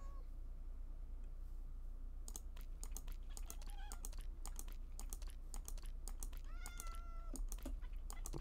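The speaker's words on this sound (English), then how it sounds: "It is a very stubborn cat." A cat meows in the Minecraft video game, several short tonal calls over a steady low background hum, with bursts of clicky keyboard typing scattered throughout.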